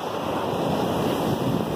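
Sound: roar of ocean waves on beach

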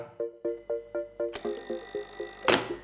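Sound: vintage rotary telephone ringing through homemade intercom circuit

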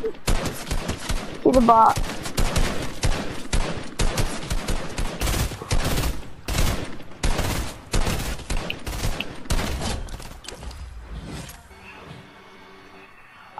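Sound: gunfire shooting at the player in a video game

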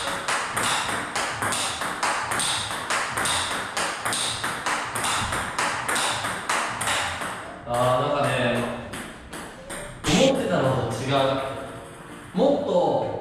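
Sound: table tennis ball hitting softened hard rubber, metallic ping

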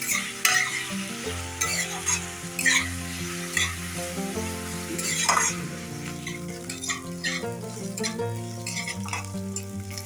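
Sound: onion frying in oil until lightly browned

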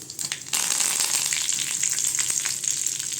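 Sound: curry leaves and fennel sizzling in hot oil

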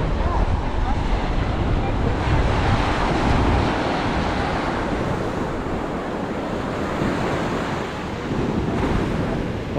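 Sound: strong wind and waves at a beach in Nassau, Bahamas

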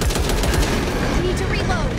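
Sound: gunfire in the video game Back 4 Blood

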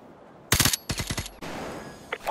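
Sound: gunshot from the Call of Duty Modern Warfare 2 video game

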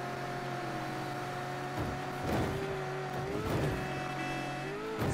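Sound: car driving in the video game Mafia III

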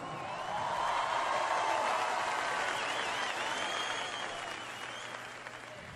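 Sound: festival crowd applauding

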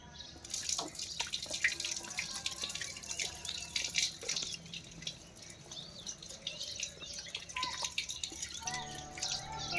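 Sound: washing hands under running tap water

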